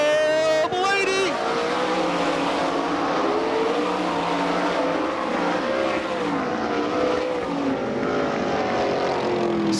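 Race cars in a heat race at a dirt track with the All Star Circuit of Champions in Franklin, PA, a loud sustained engine roar sweeping past while an announcer talks over the PA.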